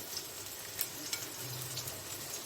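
Onion and garlic fry in hot mustard oil in a pan, giving a faint, steady low sizzle and hiss with a few soft stirring clicks and no voices.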